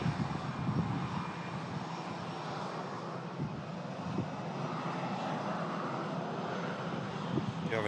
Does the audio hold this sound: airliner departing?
yes